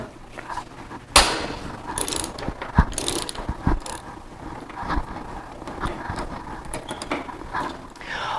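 Hood bolts being removed from a Jeep build with a ratchet, irregular clicking and clanking metal-on-metal handling close by, with occasional louder knocks.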